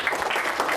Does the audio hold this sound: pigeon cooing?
no